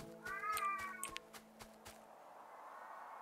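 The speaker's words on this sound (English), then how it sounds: "my cat is just going crazy" A house cat meows loudly and close up, a drawn-out wavering yowl followed by a few short clicks and taps, then quiet.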